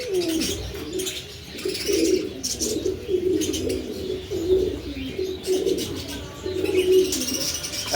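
Maltese pigeons coo over and over in soft, throaty rolls, close by, with faint chirps and wing flutters in the background and no talk over them.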